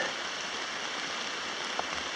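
Steady rain falls through the forest along Foster Brook in Fundy National Park, a dense, even hiss close around with a faint drip standing out near the end.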